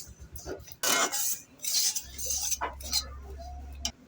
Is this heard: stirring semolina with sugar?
yes